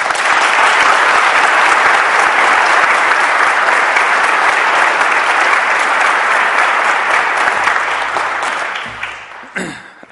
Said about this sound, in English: If I could have a round of applause for them.